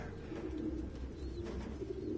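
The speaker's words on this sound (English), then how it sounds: "No human could live with all these fucking pigeons." Pigeons cooing in the Detroit: Become Human video game, a steady low murmur of repeated soft coos from several birds, faint and close against a quiet background.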